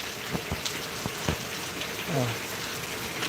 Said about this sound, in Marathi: बघितलं मंडळी आमच्या डोंगरावरनं कसा दिसतो हा पाऊस